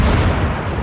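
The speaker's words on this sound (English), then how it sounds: "Let's load all the cannon guns. Fire. We have 12 shots." A naval cannon salvo fires in the World of Warships game, a single loud, dense booming blast under a second long with no talk over it.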